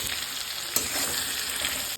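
A fish head and homemade ground spices fry in a pan for a taro dish, giving a dense, even sizzle with a brief crackle spike partway through and no voices.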